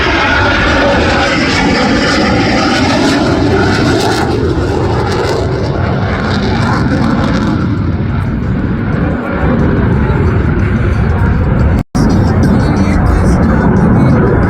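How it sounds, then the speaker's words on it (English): A CF-18 Hornet fighter jet, landing gear and flaps extended, roars past loud and sustained at an air show, its engine noise broad and steady, with an announcer talking over it. "he's added a whole lot of drag by extending the landing gear as well as the flaps to slow the Hornet down"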